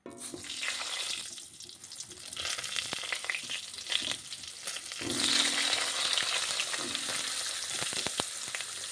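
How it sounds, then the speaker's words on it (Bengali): Potatoes and pointed gourd fry in leftover fish-frying oil with cumin seeds, a steady sizzle with intermittent stirring clatter, close and moderately quiet, the sizzle growing stronger and brighter partway through. "আলু পটলগুলো ভেজে নিতে হবে এবার"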